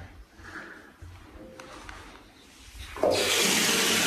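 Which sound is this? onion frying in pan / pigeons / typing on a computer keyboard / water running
water running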